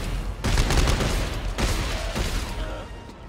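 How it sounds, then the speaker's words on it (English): Gunfire in Dead Space 3 co-op play: a dense, continuous rattle of shots and noisy bursts, loud and close, with a couple of heavier surges and no talking. "Oh, I'm getting shot in the ass."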